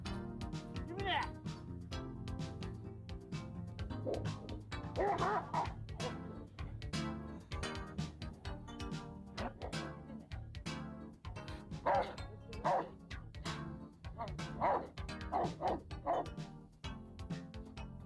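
Dog barking and yipping repeatedly in uneven bursts, with some whimpering, mixed under a person talking throughout, moderately close.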